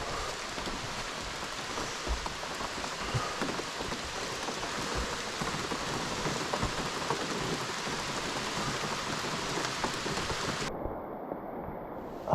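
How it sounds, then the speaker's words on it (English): Heavy rain pours steadily through an Algonquin forest, a dense, constant hiss and patter on leaves and ground with no pauses, loud and close throughout, with a few low thumps of drops. "It is raining pretty hard right now"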